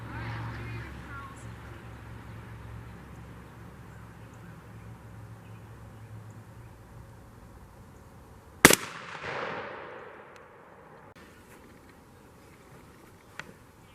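A single loud shotgun blast with turkey loads while sighting in outdoors, a sharp crack with a decaying echo after a quiet stretch of insect-like buzzing and ambient noise.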